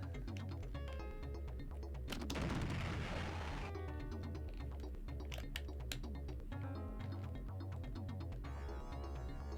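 Gunfire in the Sega Genesis game Alien 3, rapid repeated retro shots and bursts over a looping chiptune music track, with a brief noisy explosion-like blast early on, steady and fairly quiet.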